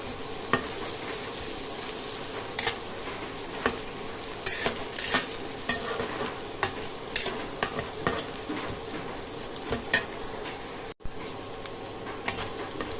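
Chopped onion with whole spices (cinnamon, cardamom, bay leaf and cloves) fries in oil for a mutton curry. A continuous close sizzle carries repeated sharp spoon taps and scrapes against the pot, with no voices.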